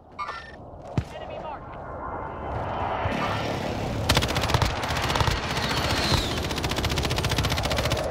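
Bursts of automatic gunfire from a first-person shooter video game, fired through a wall at an enemy, crackle in rapid sustained volleys after a sharp single shot, loud and close amid game ambience.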